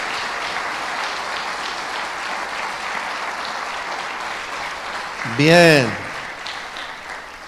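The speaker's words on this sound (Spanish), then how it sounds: "Muy fuerte el aplauso para ellos." Steady applause from a church congregation runs throughout with someone speaking over it, and a brief loud tonal burst cuts in near the end before the clapping continues.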